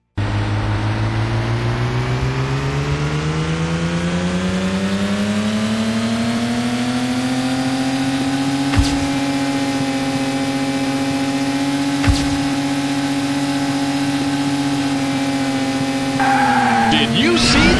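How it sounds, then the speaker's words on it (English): Race car engines in the City Racing 3D street racing game drone steadily at a loud rising pitch, with two sharp clicks partway through and a burst of engine change near the end, no talk. "Gentlemen, start your engines."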